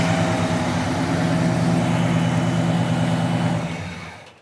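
A 1967 Pontiac GTO with its 400 V8 running on fast idle, a steady, close, loud rumble with even low pulsing throughout, with no voices, before it fades out abruptly near the end.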